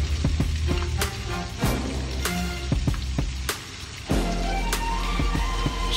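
Ginger and shallot sautéing in butter in a pan for mussel sisig, a steady close sizzle with scattered soft pops and a few utensil knocks, fairly loud and continuous without talk.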